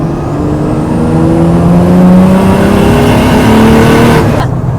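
A 693 bhp Nissan Silvia S14a with a swapped 2JZ engine accelerates hard, the engine note rising steadily for several seconds in a loud, continuous drone heard from inside the car, then briefly breaking off near the end.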